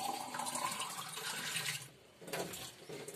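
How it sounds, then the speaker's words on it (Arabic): Water pours into a large cooking pot for chickpeas for Moroccan harira, a steady rushing pour for about two seconds, a brief break, then a second shorter pour, close and clear. "تقريبا واحد كاسرونه كبيره ديال الماء باش نسد عليها باش الحمص يطيب"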